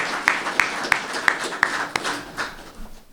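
A small audience at the Rosa Parks and John Lewis Awards claps for the award winners, with distinct, fairly loud, evenly spaced claps standing out over a thinner spread of clapping that fades toward the end.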